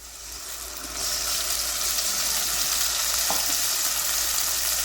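Onions and a green chilli fry in a pan with ginger-garlic paste for a mushroom gravy, giving a steady, close, hissing sizzle that swells slightly after the first second and holds without any talk.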